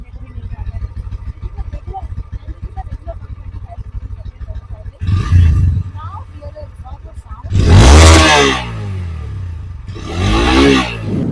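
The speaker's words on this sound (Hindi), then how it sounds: "अब जब बाइक स्टार्ट है तो आपको सुनवाती है इसका एग्जॉस्ट नोट साउंड भी कम" A Bajaj Pulsar N125 motorcycle idles with a steady low putter, then revs sharply in several loud bursts, the exhaust note swelling and falling back.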